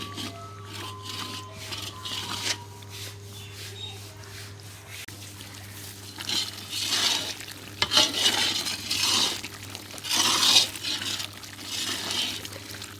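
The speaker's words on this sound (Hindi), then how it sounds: "नीचे से खूब दबा कर ये खुरपा मारें ताकि नीचे से ये मजून जल न जाए" Majoon is stirred and roasted in a pan with a spatula, making rhythmic scraping swishes over a faint sizzle. The strokes grow louder and busier toward the end.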